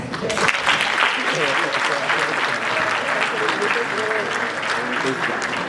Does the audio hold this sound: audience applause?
yes